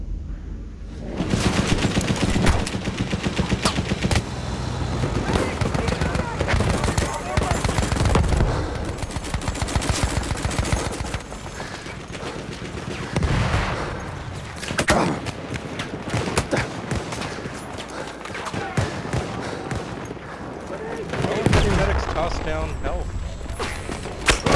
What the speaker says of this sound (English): I'm shooting at him.